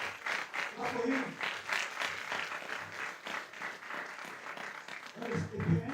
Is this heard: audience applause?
yes